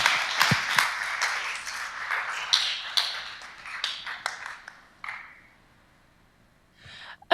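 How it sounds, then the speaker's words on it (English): An indoor audience at a tech meetup claps after a talk. The loud, dense applause lasts about five seconds, fades to quiet, and ends with a brief noise. "another round of applause, please, for Talitha."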